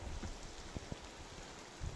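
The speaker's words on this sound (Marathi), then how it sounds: "वरून पाऊस पडतोय लिंबाखाली" Heavy rain pours on a farm field and onto a lemon tree overhead, a steady broadband hiss with a few soft drips and patters close by, no voices.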